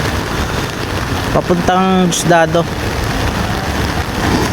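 Heavy, unrelenting rain pouring down on a flooded street, a loud continuous hiss filling the air, with a voice speaking briefly over the downpour.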